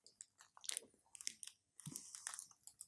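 Close crunching bite into a chocolate-sprinkled doughnut-style protein bar, followed by several crisp chewing crunches in short bursts with pauses between them, no talking.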